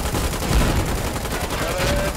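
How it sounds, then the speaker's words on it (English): Gunfire rattles in a Foxhole battle, with dense overlapping shots forming a loud, continuous crackle and a voice briefly speaking over it. "You got two shots left after that."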